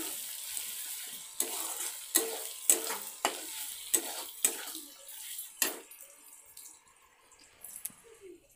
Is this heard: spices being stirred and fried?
yes